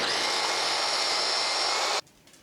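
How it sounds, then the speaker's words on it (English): A food processor grinds sliced ginger with a loud, steady high whir for about two seconds, then cuts off abruptly into quiet. "Now I'm going to put it in the processor, grind it up."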